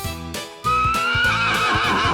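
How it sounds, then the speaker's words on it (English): A horse neighs loudly and alone in a short, close whinny with a rising, quavering pitch that swells after a brief quieter start. "Horse,"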